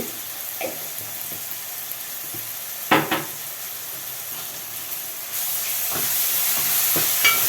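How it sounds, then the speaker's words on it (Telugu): Fresh ginger frying in a pan for a ridge gourd curry gives a steady soft sizzle and hiss that grows slightly louder toward the end, with a few sharp clinks and scrapes. "ఒక టీ స్పూన్ అవుతుంది అల్లం వేస్తున్నాం ఫ్రెష్"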